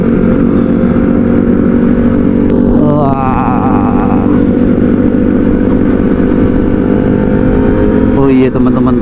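Kawasaki ZX25R motorcycle cruises on a morning ride, its engine a dense steady drone close to the rider, with brief surges in pitch as it revs; a voice talks over the engine noise.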